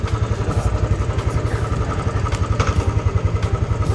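A Royal Enfield motorcycle engine running at idle, close and loud, with a steady rapid thumping beat and mechanical clatter throughout.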